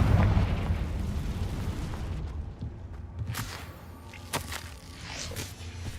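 A Confringo blasting spell explodes in the Hogwarts Legacy video game: a deep, rumbling boom at the start that slowly decays, followed by scattered crackling debris.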